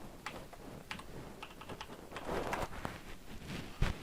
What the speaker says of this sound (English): So we're just going to pop in the password here.